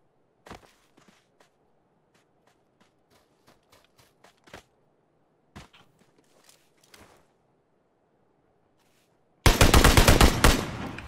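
Gunfire in the battle royale shooter PUBG: a run of sharp, scattered shots spaced through quiet, then a sudden loud, dense burst of rapid automatic fire at the end.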